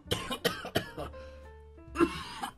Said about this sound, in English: You wake up at 3 in the morning from a coughing fit